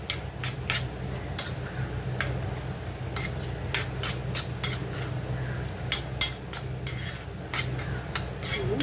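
A spoon mixes roasted eggplant bharit with curd in a bowl, giving a steady close scraping and stirring with a run of sharp clinks against the dish, with no talking.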